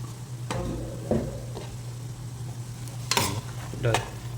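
Diced tomatoes softening in hot oil for chana gravy, a quiet steady sizzle broken by a few scraping stirs and clinks of a spoon against the pan.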